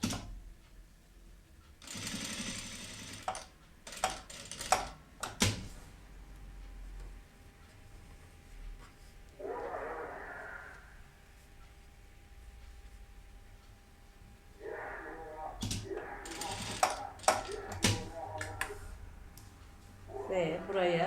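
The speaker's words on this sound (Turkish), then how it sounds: "bir dikiş daha atıyoruz arkadaşlar" A sewing machine stitches the hem and placket of a pajama leg in short, whirring bursts with pauses between them, as a person talks nearby and fabric handling clicks in between.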